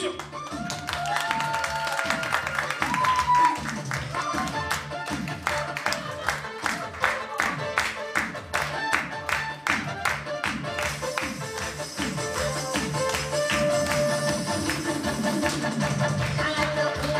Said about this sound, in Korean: 박수 한번 주십시오.